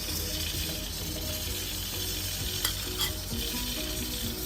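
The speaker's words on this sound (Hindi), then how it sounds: "अच्छी तरह फ्राई करने के बाद हमने इसमें टमाटर डालने हैं" Tomatoes and coriander frying in a pan, a steady dense sizzle with faint stirring scrapes, moderately loud and continuous, no voices.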